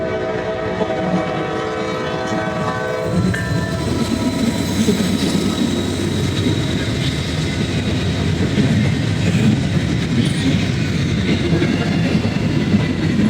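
Norfolk Southern 262, a heritage-unit freight locomotive, rumbles past close and loud, its horn sounding with stacked tones for the first few seconds before giving way to a steady roar of engine and rolling wagons.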